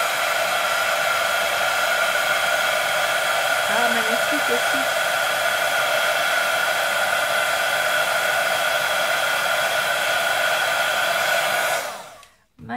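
An embossing heat gun blows with a loud, steady whooshing roar for about twelve seconds, close by, then cuts off abruptly; a brief voice speaks over it early on.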